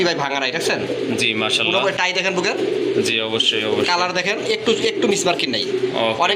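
Pigeons for sale coo repeatedly at close range, their soft throaty calls mixing with people talking throughout.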